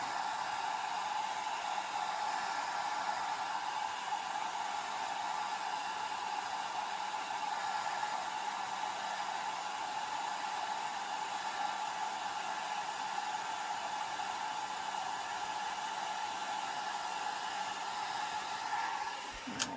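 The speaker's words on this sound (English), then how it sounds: "I'm trying to hold the dryer up high because it's warping my paper a little bit." A hair dryer held high over alcohol-ink artwork on paper blows steadily and evenly for a long stretch, a constant whooshing hum with no talking, cutting off abruptly at the end.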